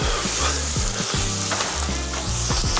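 Shallots and lemon sizzle steadily in a hot pan, a loud, continuous frying hiss with occasional stirring clatter, up close and with no talk.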